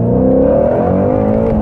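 Ford Mustang GT350 on an E85 tune accelerating hard, a loud, close engine roar rising steadily in pitch throughout.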